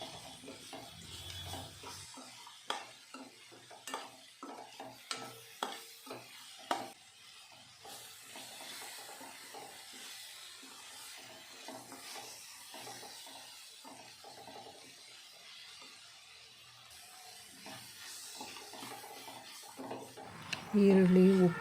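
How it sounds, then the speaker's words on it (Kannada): Onions frying with salt as a spoon stirs them in the pan, soft sizzling broken by rhythmic scraping strokes, with a voice talking over parts of it. "ಉಪ್ಪು ಹಾಕಿದ್ಮೇಲೆ ನೀಟಾಗಿ ತಿರುಗಿಸ್ತಾ ಚೆನ್ನಾಗಿ ಫ್ರೈ ಮಾಡ್ಕೊಬೇಕು."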